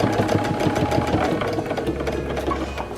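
Sewing machine stitching down focal fabric and green fabric for a scrappy mock cathedral windows table topper, running steadily and fairly loud with a continuous mechanical whir and rapid rhythmic needle clatter throughout.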